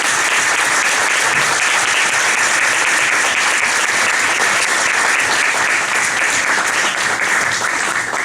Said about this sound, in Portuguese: gostaria que vocês dessem uma salva de palmas